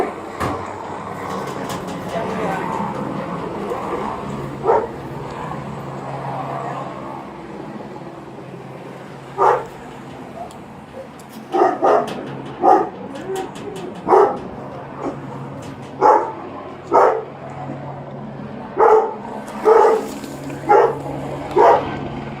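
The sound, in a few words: police dog barking during search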